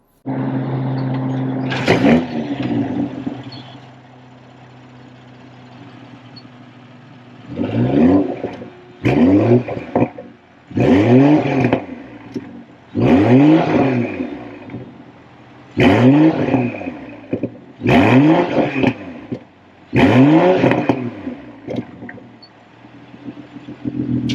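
A 2023 BMW M340i xDrive engine starts in Sport Plus mode with a loud bark, settles into a steady idle, then is revved repeatedly in sharp rising bursts with short gaps between.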